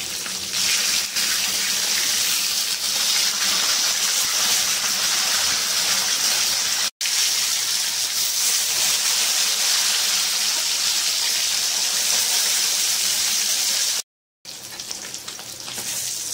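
Loud, steady crackling sizzle of rohu fish frying in hot oil, close up and continuous, broken only by a couple of brief silent gaps.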